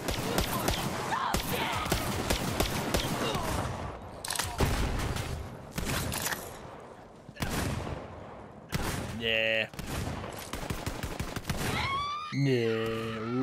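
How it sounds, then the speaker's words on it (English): Rapid bursts of gunfire from the video game Borderlands 3, loud and dense with abrupt stops between volleys, mixed with game effects and a voice speaking over the shooting. "Shoot people around cover."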